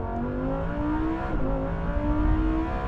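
A Lamborghini pulls hard from a drag race start, its engine a loud, steady rising drone with a brief dip at a gear change, heard close and continuous.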